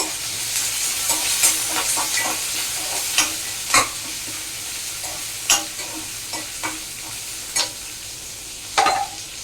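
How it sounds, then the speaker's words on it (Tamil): Onion, green chilli and curry leaves sautéing in a hot pan for a Tamil lunch dish, with a steady close sizzle and scattered sharp spoon scrapes and taps against the pan, with no one talking. "அப்புறமா கட் பண்ணி வச்சுருக்க வெங்காயம், பச்சை மிளகா, கருவேப்பிலை எல்லாத்தையும் எல்லாம் சேர்த்துக்கலாம். கலந்துக்கலாம்."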